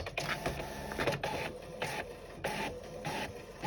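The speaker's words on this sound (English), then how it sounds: "So you put that in the printer, and we're going to go ahead and print." A home printer prints labels onto a linen sheet, whirring and clattering steadily up close with rhythmic mechanical pulses as the paper feeds through.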